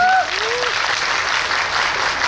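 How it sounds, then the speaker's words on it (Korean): An audience applauds at a movie talk event, a dense, loud burst of clapping from a crowd that continues steadily throughout, with a short tonal chirp at the start. "두 분에게 박수 좀 부탁드리고요."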